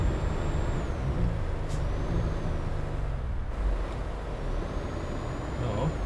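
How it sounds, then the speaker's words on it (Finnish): A heavy truck engine idling and revving in the Euro Truck Simulator 2 driving game, on a pipe-hauling run from Sodankylä to Murmansk. A steady, loud low rumble fills the clip, with a faint higher whine above it. "Annetaan vähän kaasua, minkälainen ääni."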